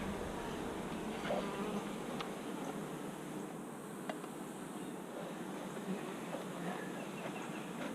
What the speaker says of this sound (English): get out here and get in these bees